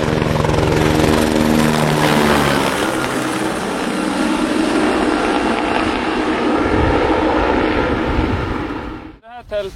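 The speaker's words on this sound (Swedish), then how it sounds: "Hej då helikoptern!" A helicopter carrying people up to a mountain lake in the fells departs: a loud, steady rotor and engine roar with a thumping rhythm that holds close, then cuts off near the end as wind buffets the microphone.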